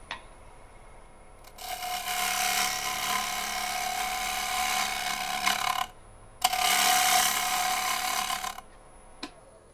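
Lathe tool cutting the rim of a maple crotch bowl, throwing long curly shavings; two sustained, loud, broadband scraping passes several seconds each, separated by a brief pause, with no talk.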